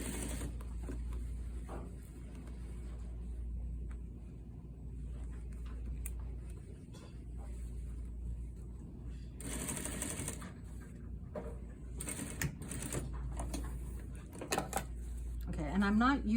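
A home sewing machine runs steadily, stitching a seam allowance and facing together on a shawl collar sample, with a low motor hum under short bursts of louder whirring and some quiet clicks.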